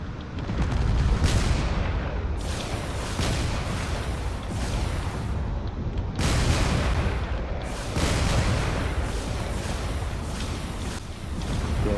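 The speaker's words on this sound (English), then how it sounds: "there's a lot of missiles going after that battleship over there" Missiles strike a battleship in a space combat video game, producing a continuous roar of heavy booms and explosions with sharper bursts hitting at intervals and no voices over them.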